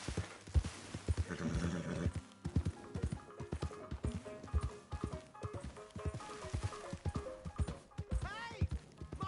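A horse in the video game Red Dead Redemption 2 clip-clops with rhythmic, close hoofbeats throughout, joined by a whinny toward the end, while game voices talk over parts of it.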